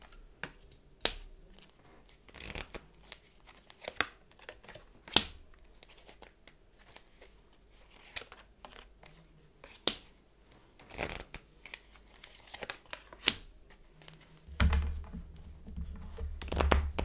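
Tarot cards are shuffled, flicked and laid out one by one for a reading, giving sharp intermittent snaps and riffles over a quiet room, with a heavier rustle of handling near the end.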